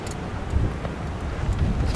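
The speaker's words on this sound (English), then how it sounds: "The desert can be very windy at night." Strong desert wind at night buffets the microphone in continuous low rumbling gusts, with a broad rushing roar and no talking, near Richtersveld, South Africa.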